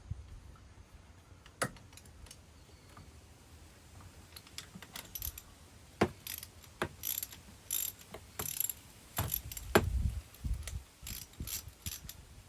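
Intermittent metallic clicks and ratcheting taps from a box end wrench turning a flanged nut on a Jeep JK inline thermostat kit, close and fairly faint, in irregular bursts with quiet gaps and no talking.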